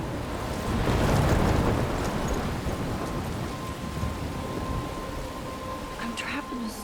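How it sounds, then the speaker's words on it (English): Stormy weather in the game Life Is Strange: a steady wash of heavy rain with low rumbling thunder swelling early on, continuing as a constant roar, with a voice speaking over it. "I'm trapped in a storm?"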